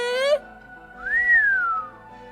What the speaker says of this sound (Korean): 휘파람 불 거면 똑바로 불든가